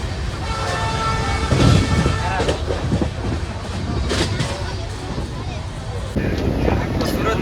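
An overnight passenger train from Surat to Dwarka rumbles steadily along the tracks with continuous rattling and clatter, loud and close throughout.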